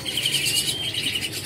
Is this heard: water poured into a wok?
no